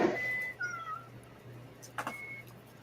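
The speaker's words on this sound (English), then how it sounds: "They're going to hear your cat." A house cat gives a couple of short, faint meows over a low, steady background hum, heard close by and quiet, with no talking.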